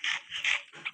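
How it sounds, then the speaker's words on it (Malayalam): Dogs give a quick run of high, thin whimpers and yips, three or four short cries in about a second, close and fairly quiet. "അതാ എൻ്റെ ഡോഗ്സോടെ"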